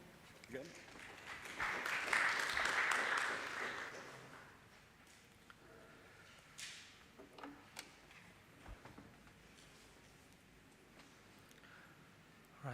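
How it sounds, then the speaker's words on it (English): A brief round of applause from a modest audience swells and fades over a few seconds, followed by scattered taps and room noise. "Let's give him an applause as well."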